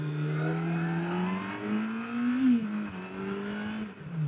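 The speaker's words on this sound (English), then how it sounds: "This has stock exhaust, and I love the exhaust sound on this." A Yamaha FJR1300 motorcycle on its stock exhaust, engine note rising and falling steadily as it revs under way, a smooth continuous drone heard close with no talk over it.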